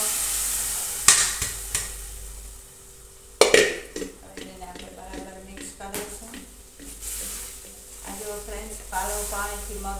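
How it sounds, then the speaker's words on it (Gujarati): Boiled mung beans tumble into hot, sizzling masala with a sudden loud splash of frying, followed by spoon scrapes and clinks against the pot under a steady sizzle, while a voice talks intermittently over the cooking. "તો જો ફ્રેન્ડ્સ મસાલા પણ સરસ પાકી ગયા છે આપણે નાખીશું વાફેલો મગ"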